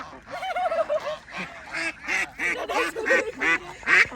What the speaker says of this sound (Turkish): Ördek mi bunlar kaz mı? Kaz ya.